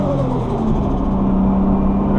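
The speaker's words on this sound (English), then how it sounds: "Trying to spin the wheels." A 1989 Toyota Supra accelerating hard while trying to spin the wheels, a loud, close engine drone with a steadily rising pitch and no pause.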